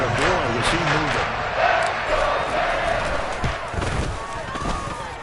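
A big stadium crowd roars after a Buffalo Bills touchdown at a football game, a dense, sustained wall of cheering and shouting with a commentator talking over it.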